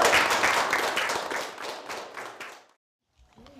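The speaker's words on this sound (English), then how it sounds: "he deserves a great round of applause" A small group in a meeting gives a round of applause, clapping fading out over a few seconds and stopping, followed by a brief faint voice.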